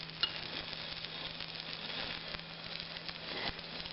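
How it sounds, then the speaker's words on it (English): A sugared egg omelet sizzles and bubbles steadily in a pan on a gas stove, a close, even hiss with occasional faint crackles and no talking. "Oh, it's starting to bubble."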